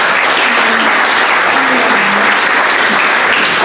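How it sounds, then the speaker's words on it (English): Steady, dense audience applause at a book talk, loud and continuous from start to finish with faint murmurs from the crowd underneath. "So applause to you."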